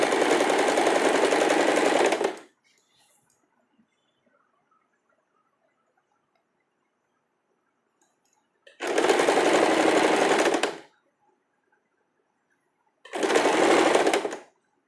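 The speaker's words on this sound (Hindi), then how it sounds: "ये इस तरह से ऐसे लेना है और इसको बिठाते हुए इसको सिलते जाना है।" Electric sewing machine stitching a sleeve onto a cami top, three steady whirring runs, a long one, a second after a long silence, then a short final burst, close and loud.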